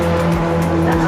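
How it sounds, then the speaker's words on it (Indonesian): A car on a road in Pekanbaru, Riau rolls past close by with a steady engine hum and tire noise, loud and continuous throughout. "Ini mobil baru lewat gitu kan."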